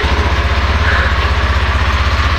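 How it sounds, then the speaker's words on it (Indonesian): A Yamaha NMAX Neo scooter engine, left unused for a week, runs at a steady idle just after starting, with a loud, even low-pitched putter that pulses in rapid regular beats throughout. "Langsung aja kita starter."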